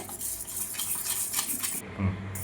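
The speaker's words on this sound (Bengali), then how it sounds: "পুরোটাকে এবার মিলিয়ে নেব ভালো করে" Prawn chilli batter with chilli powder and soy sauce being stirred in a bowl, a steady close scraping and clinking of a spoon against the bowl with a brief louder knock near the end.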